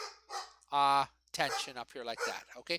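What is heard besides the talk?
dog barking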